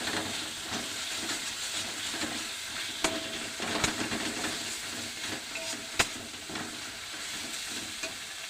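Onion and spice paste sautés in oil with a soft continuous sizzle, punctuated by a few sharp clicks and scrapes of stirring; faint and steady, no voices.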